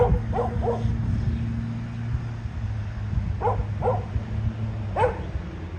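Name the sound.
dog barking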